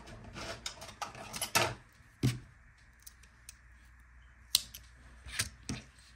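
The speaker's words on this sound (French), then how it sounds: "je vais couper mon fil" Scissors snip crochet yarn while finishing a Tunisian crochet cable scarf, with a few close, quiet snips and small handling clicks against a soft background.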